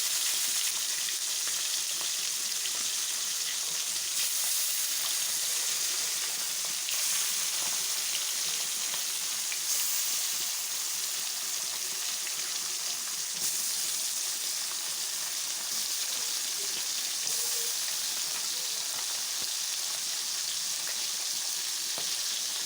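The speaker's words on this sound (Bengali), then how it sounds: "ভাজি করার জন্য কড়াইয়ের মধ্যে দিতেছি।" Koi and shing fish fry in oil in a wok, a continuous bright sizzle that holds steady at moderate loudness throughout, with small crackles and stirring noises on top.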